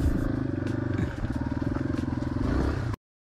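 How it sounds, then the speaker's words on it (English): A motorcycle carrying a passenger across desert ground, its engine revving in a rough, pulsing drone with clattering and rattling on top, loud and close before cutting off abruptly at the end, with a faint voice beneath. "Michael gave Jody a ride on his motorcycle"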